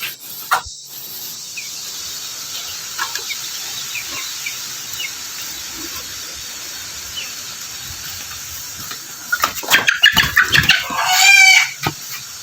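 Kadaknath and European silkie chickens cluck steadily at close range over a quiet rural background, then break into louder, excited squawking near the end.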